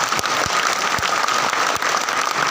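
Applause from a lecture audience at an IMC event in Raipur, Chhattisgarh: dense, steady clapping from many hands, fairly close and continuous throughout, with no voices over it.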